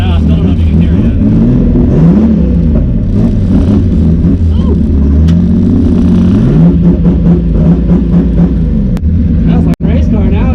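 Nissan 280ZX engine with modified intercooler tubing revs hard and loud, a steady deep rumble with rising and falling pitch sweeps, ending in a sharp brief burst near the end that suggests a turbo blow-off; people talk over it.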